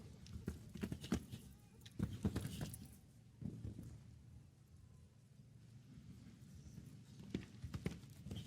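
Horse hooves clip-clop on the footing of a show jumping arena during a jump-off, a steady run of fairly quiet thuds with soft low rumbling between them.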